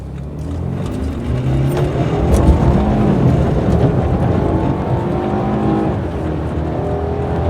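A BMW F30 330i with the B48 engine accelerates hard from a standstill toward 100 km/h, heard from inside the car as a loud, rising engine drone that climbs through the gears.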